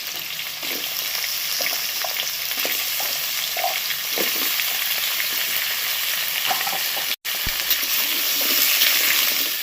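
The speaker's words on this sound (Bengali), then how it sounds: "আলু আর কুমড়োটা একটু ভেজে নিয়ে তার মধ্যে দিয়ে দিচ্ছি ছোলা ভেজানো" Potato and pumpkin pieces frying in a pan, a steady close sizzle with crackles and light stirring throughout, one brief cut near the end, no talking.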